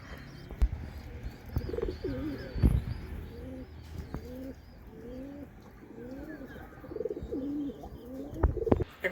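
Domestic pigeons, including young cross-bred and Giribaz birds kept in a loft, coo in repeated soft, low rolling phrases close by, with a few faint knocks and rustles in between.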